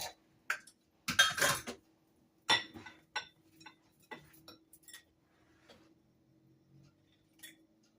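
A spoon stirs banana nut muffin batter in a bowl, giving scattered light clinks and taps at irregular intervals, close and fairly quiet, with near silence between strokes.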